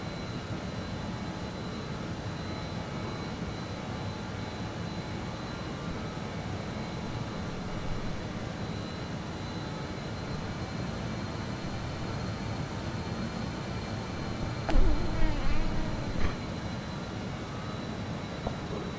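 Old airliner with over 33,000 flight hours in Microsoft Flight Simulator 2020, its engines droning steadily throughout with a constant broadband roar, a brief louder burst near the end.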